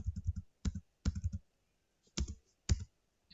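Keys clicking on a computer keyboard while a router configuration command is typed, in short bursts of several quick taps separated by brief pauses, close and clear with no talking.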